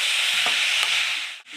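A spatula stirs a cabbage stir-fry in a pan, giving a continuous scraping and sizzling rustle with a couple of brief clinks, close and fairly loud.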